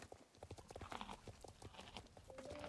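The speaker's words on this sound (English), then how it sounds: "I keep hearing a horse eat." Horse sounds in the Tomb Raider I Remastered video game: a soft, distant patter of hoof clops with snorting, and a faint whinny near the end.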